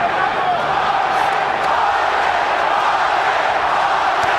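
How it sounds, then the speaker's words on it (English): A large boxing arena crowd chants for Fernando Vargas during his fight with Oscar De La Hoya, a dense, loud, continuous roar of many voices with no clear beat to the chant. "Crowd chanting for Vardgas"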